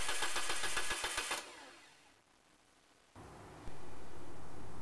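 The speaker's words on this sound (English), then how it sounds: "crank the engine" A car engine cranks with a rapid, rhythmic starter-motor chug for over a second, then drops away to near silence before a loud, steady mechanical hum returns, close and alone.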